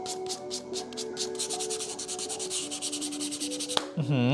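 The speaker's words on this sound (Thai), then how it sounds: "เป้าหมายของการขัดกระดาษทรายคือ ให้ผิวมันหยาบ" Sandpaper rubbing a keyboard case by hand in repeated back-and-forth strokes, a steady scratchy sanding close up and alone, with a brief knock near the end.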